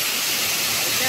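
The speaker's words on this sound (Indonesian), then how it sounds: "Air terjun" Steady rushing roar of the Langanan waterfall beside a river, broad and continuous white noise, close and loud throughout.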